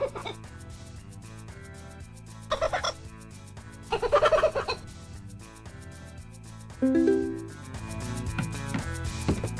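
A talking bird in the video game Aussie Bogan Hero squawks in short, bright bursts over steady game music, with several separate calls spaced across the stretch.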